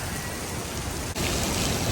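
Heavy rain pours down outdoors in cold weather, a dense, loud, continuous hiss that holds steady for the whole stretch with no voices.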